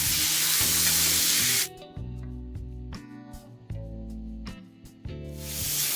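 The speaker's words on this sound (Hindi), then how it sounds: "तीन 4 मिनट को लहसुन अदरक हरी मिर्च के साथ भून लेते हैं पहले" Garlic, ginger and green chilli fry on a tawa over a medium-high flame. A loud, hissing sizzle opens and closes the sequence, easing off in the middle under faint tonal background sound.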